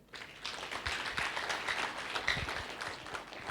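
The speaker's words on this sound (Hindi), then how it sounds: "धर्मपाल जी के लिए मैं चाहूँगा एक बार हम सब तालियां बजाएं" Audience applause for Dharmpal ji at a talk on being a financial ambassador, steady clapping from a room of people sustained across the whole stretch at moderate level.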